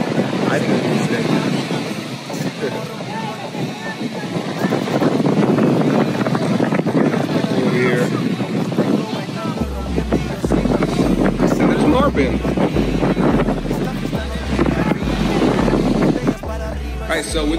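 Strong wind buffets the microphone in a steady, loud roar on a beach in Las Terrenas, Dominican Republic, with rumbling gusts and distant big surf beneath.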